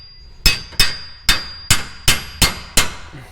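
Seven sharp metallic hammer taps strike a bolt while Air Lift air bags are installed on a 4th-gen Ram 1500, evenly spaced, close and loud with ringing decay, no talking.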